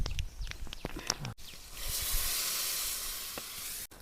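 Potato and tomato curry sizzles in a pan over an outdoor fire in a forest, a steady hiss swelling after a few clinks and stirring knocks, with no talking.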